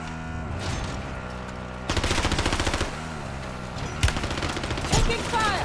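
Rapid automatic gunfire in Warzone, a close, loud burst of repeated shots followed by shorter sharper volleys and single cracks, with game voice chatter mixed in.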